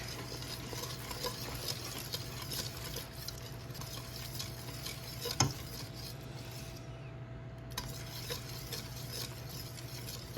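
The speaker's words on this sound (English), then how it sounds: "Mix this up, and then I'm going to mix in the pasta." Soft scraping and stirring of a utensil in a pot as cheddar cheese is mixed into pasta, with one sharp clink midway, over a steady low hum.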